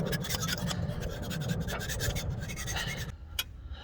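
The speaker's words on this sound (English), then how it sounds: "You can get yourself a scraper" A hand scraper scrapes crud from the engine block underneath a 2003 Ford Taurus, making continuous close, gritty rasping strokes that stop abruptly near the end, followed by a single short scrape.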